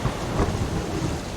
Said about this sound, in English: as it starts to rain and pick up